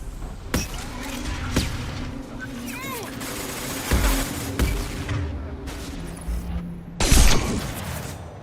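Sniper rifle shots in a video game crack out as several sharp, booming reports spaced a few seconds apart amid a busy, noisy game soundscape, with talk heard between the shots.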